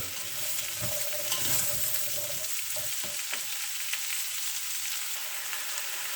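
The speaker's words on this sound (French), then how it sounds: "Ensuite, carottes émincées, champignons de Paris, et je fais bien revenir" Pearl onions, sliced carrots and button mushrooms sautéing in a hot pan, a steady close sizzle with occasional stirring knocks and scrapes, no voices.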